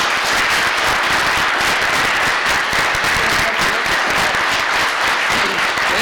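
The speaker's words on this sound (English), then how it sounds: "So let's give him a good hearty applause." A large evening audience breaks into sustained, loud applause for a featured speaker at a society gathering, dense steady clapping filling the room without pause.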